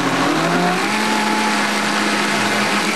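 A blender running continuously while it purees food to a smooth consistency in a kitchen, a loud, steady, close motor whir with a droning hum that holds for the whole stretch.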